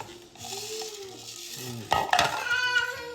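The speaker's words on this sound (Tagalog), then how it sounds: "ilagay na natin yung bigas dyan muna" Rice goes into a container with a brief clatter of grains and a few sharp clinks against the vessel. Soft, sustained tonal sounds run quietly underneath.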